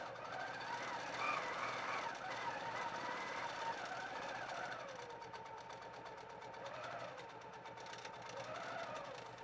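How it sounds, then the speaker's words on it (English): A Grace Company 21X Elite long-arm quilting machine stitches in cruise mode, its motor whirring steadily with a rising and falling pitch as the stitching speed changes, fairly close throughout. "So you can see when I slow down, it continues stitching with me."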